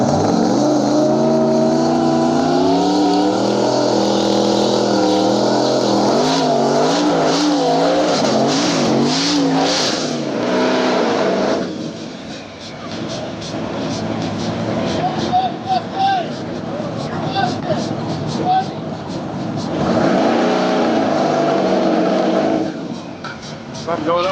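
Race cars accelerating on a rain-affected track during a race, loud engines revving and rising in pitch in repeated sweeps, then easing off and building again, with people talking over the noise.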